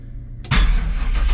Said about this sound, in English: fired right up. Got the side exhaust on it, so it sounds really good